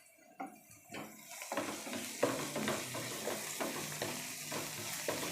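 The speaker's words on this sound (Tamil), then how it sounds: "பாருங்கள், ஆல்மோஸ்ட் வெங்காயம் வதங்குது." Salted onions sauté in a pan for aloo masala, a continuous close sizzle rising after a few opening clanks, with rhythmic stirring scrapes throughout and no talking.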